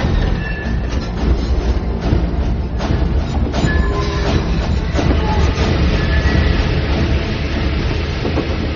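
Steady, dense rumble of a moving passenger train, with rail clatter and a continuous roar running at even loudness throughout, no talk heard.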